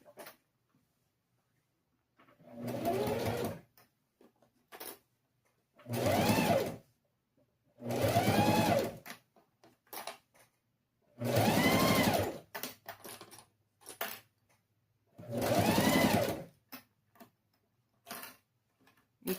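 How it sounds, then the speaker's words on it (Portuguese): A sewing machine stitching a Bobbie Goods pencil case runs in five or six separate bursts of steady mechanical whirring, close and clear, with quiet pauses between runs. "costurar sem esticar e não muito na bordinha"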